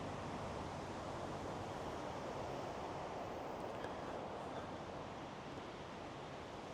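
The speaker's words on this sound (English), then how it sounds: "the wind really is gusting at me" Strong wind buffets an action camera microphone outdoors in a constant, loud roar of rumbling noise that never lets up.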